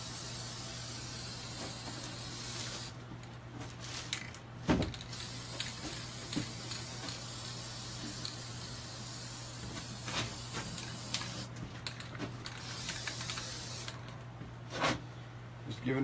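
A can of spray paint hisses faintly in short, repeated bursts of a few seconds each over a low, steady hum, with brief pauses between sprays.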